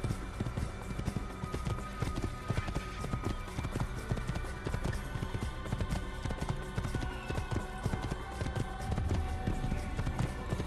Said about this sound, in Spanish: Ese es mi caballito.